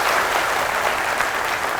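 An audience at a motivational seminar for students claps loudly and steadily, a dense, even wash of applause with no pauses.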